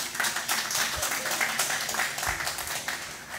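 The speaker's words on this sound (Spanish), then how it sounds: "un aplauso para Carolyn" Audience applause fills a conference hall at a summit on the Aedes aegypti mosquito in Puerto Rico, a steady, moderately loud wash of many hands clapping for an honored guest.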